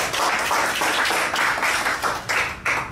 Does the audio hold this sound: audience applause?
yes